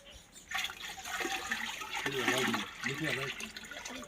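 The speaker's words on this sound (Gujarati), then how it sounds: "અને આ ગોળ છે અંદર આ ઓગળી ગયો છે, એને સીધું એમાં અંદર નાખીશું" Dissolved jaggery is poured into a jeevamrut farm mixture, giving a soft, steady liquid splash and trickle at moderate distance. A voice talks over it.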